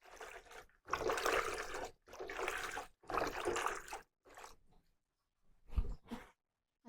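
Water is poured over freshly dug ingredients to rinse off the soil while making Lao chili dip, heard as several bursts of splashing and trickling in close succession, then a short gap and a brief final splash.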